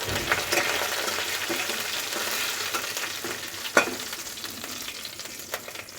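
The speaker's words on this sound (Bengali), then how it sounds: "এটাকে আমি একটু ভেজে নিচ্ছি" Panch phoron spices frying in oil in a pan, giving a steady close sizzle with occasional stirring clicks and one sharper tap.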